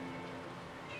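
Cherry, a cat in the game Xenoblade Chronicles 3, gives a brief meow over a dense, busy game soundscape.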